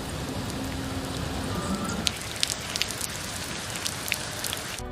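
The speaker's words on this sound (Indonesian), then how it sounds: "Saat hujan mulai mereda" Steady rain falling across a city during an acid-rain disaster, a dense even hiss with scattered drops pattering on surfaces, holding at a moderate level throughout without any voices.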